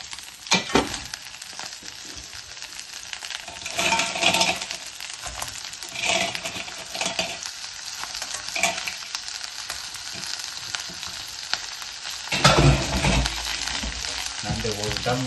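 Washed blue crabs fry in a pan with curry leaves for a crab curry, making a steady loud sizzle with stirring scrapes and occasional metallic clinks, close up and with no speech.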